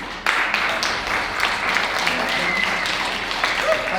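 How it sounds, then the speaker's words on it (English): An audience at a live show applauds its speakers, a steady patter of clapping that starts abruptly and carries on, with some voices mixed in. "let's give all of our speakers a warm round of applause"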